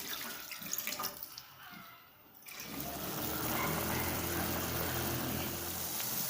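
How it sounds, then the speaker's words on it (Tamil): Water is poured into a pan of roasted moong dal, a hollow gurgling trickle that swells into a steady, fairly close pour after a brief quieter moment. "இதில் நாம கொஞ்சம் தண்ணி சேர்த்து இந்த பாசிப்பருப்பை நல்லா வேக வச்சு எடுத்துடலாம்."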